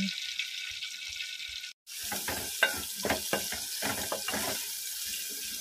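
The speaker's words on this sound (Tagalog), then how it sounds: "Una, lagyan natin yung brown ang onion." Onion sizzling and frying in a pan, a steady hiss with scattered louder crackles and pops, close and alone after a brief pause near the start.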